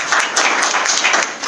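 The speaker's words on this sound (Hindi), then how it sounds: "उनके लिए भी एक जोरदार तालियां।" An audience at a business meeting claps in a dense, steady burst of applause, loud and close, with no voices over it.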